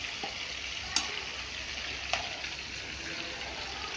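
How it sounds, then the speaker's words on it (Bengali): Meat sizzling and frying in a pan alongside a pot of potatoes and tomatoes, a steady crackling hiss throughout with a couple of sharp pops and faint utensil clinks. "এখানে গোস্ত ফ্রাই হচ্ছে।"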